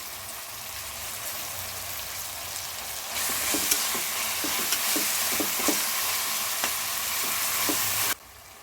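Ginger-garlic paste fries in a pan for chicken biryani, a steady close sizzle that jumps louder partway through with scattered pops and crackles, then cuts off abruptly near the end.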